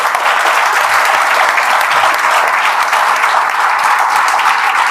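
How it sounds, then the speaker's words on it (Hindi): Sustained audience applause fills the whole stretch, a dense, steady wash of many hands clapping at an even loudness, given for a guest at a Hindi-speaking gathering honouring village students who got into IIT. "ताली बजा दीजिए"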